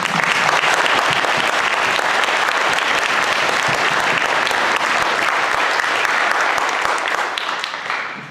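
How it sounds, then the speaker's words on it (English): Audience applause at a Christmas concert, a dense, steady wash of many hands clapping from start to finish, tapering slightly at the very end. "How about a round of applause?"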